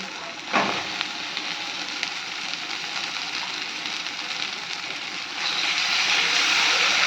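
Chicken marinated in salt and vinegar drops into hot oil and fried masala with a sharp hiss, then settles into a steady, close sizzle that grows louder and brighter toward the end.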